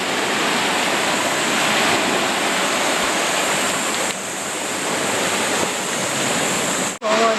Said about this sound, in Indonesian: Dengerin percikan ombaknya.